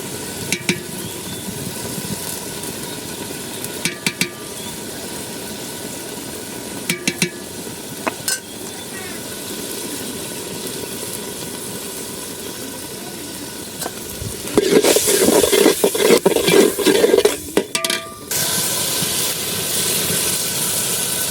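Ground turmeric, chili, coriander and garam masala fry in a pot for khichuri, a low steady sizzle with occasional stirring knocks, swelling into a louder burst of crackling and scraping near the end; no talk.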